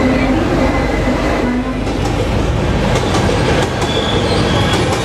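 The Garib Rath Express at Dadar station, Mumbai, rumbling steadily close by, with rattling carriages, clacking wheels and faint squeals under continuous crowd noise.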